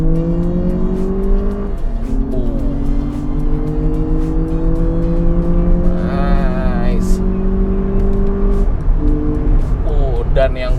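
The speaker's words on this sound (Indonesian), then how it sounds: "mobil ini diklaim dapat berakselerasi dari 0 hingga 100 hanya dalam 6 detik aja" A Lexus RX 500h F Sport hybrid SUV accelerates hard, its engine note climbing steadily through gear changes, loud and close, with a voice speaking over it.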